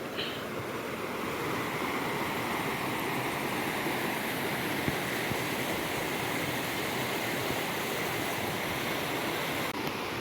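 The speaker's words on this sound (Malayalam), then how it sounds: "ഇതാണ് ഈ പുഴ ഒഴുകുന്നത്" Steady rushing river water flows continuously, a dense even wash of sound with no pauses and no voices.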